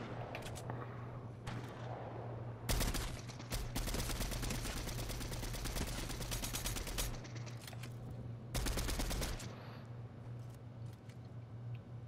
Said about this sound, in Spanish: Oigo los tiros.